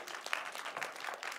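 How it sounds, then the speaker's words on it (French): A church congregation applauds itself during a French-language service, a faint, steady patter of clapping lasting just over a second with a slightly sharper clap near the start. "Come on, vous pouvez vous applaudir!"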